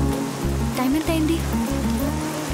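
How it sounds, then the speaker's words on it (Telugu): Heavy rain pours down steadily in a continuous wash of hiss and patter, mixed beneath a droning tonal background. "వర్షం చూస్తే తగ్గేటట్టు లేదు."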